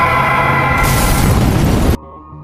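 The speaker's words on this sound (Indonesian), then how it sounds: "ternyata yang meledak adalah mobil anak buah Jack." A car bomb blast in the Peaky Blinders drama, a loud sustained roaring explosion that cuts off abruptly into a quieter tonal aftermath.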